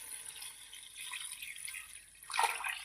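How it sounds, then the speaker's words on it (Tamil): Coconut milk poured into a pot of biryani rice, a soft continuous liquid trickle and splash that swells louder near the end. "இப்போது தேங்காய் பால் ஊற்றுக்கிறோம்"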